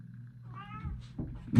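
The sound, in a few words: kitten meowing in craft room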